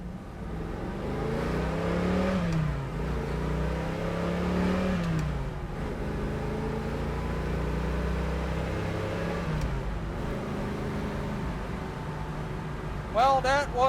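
A 1969 Chevrolet Camaro Z28-style car accelerates hard through a couple of gears, its engine note climbing and dropping at each shift, recorded from inside the car with steady road noise underneath.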